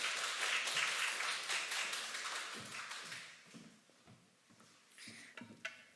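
A church congregation at a Friday prayer service applauds to welcome a missionary speaker, the clapping strongest at the start and then thinning out into scattered claps and small taps and knocks.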